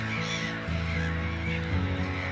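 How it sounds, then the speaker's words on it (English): A distant duck calls in the wild, repeated honking, goose-like notes rising over a steady background, with no talking. "Lovely duck."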